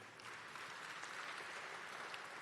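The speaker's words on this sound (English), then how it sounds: "So let's give Les a round of applause again" At the Rainbow PUSH annual conference, a large audience applauds in a steady, continuous patter, heard faint and distant throughout with no clear voices.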